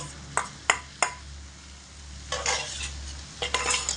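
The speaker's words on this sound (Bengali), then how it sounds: "সাবুর সঙ্গে মশলা সবজি খুব ভালো করে কষাবো।" Soaked sago being stirred into spiced vegetables in a pan, a few sharp scraping strokes followed by longer sizzling, stirring bursts, close and moderately loud with no talk.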